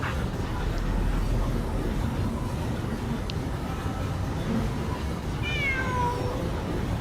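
A cat meows in the video game Genshin Impact during a Sumeru event, a short rising-and-falling call near the end over a dense, busy background of game sound.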